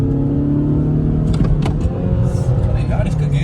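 A Skoda Superb TDI diesel pulls hard off the start line in a drag race, its loud, steady engine roar sustained throughout with voices faintly beneath.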